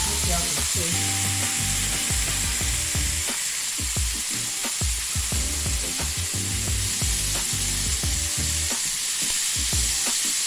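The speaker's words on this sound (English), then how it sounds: "It's sizzling, it's looking good." Shrimp fry and sizzle steadily in a hot pan, a loud continuous hiss with scattered clicks and scraping as they are pressed flat and stirred.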